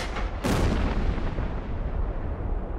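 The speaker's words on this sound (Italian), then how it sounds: "L'artiglieria terrorizza la popolazione." An original World War II recording of an artillery bombardment at Ortona: a heavy blast erupts early and then rolls into a dense, rumbling roar that fills the rest of the moment.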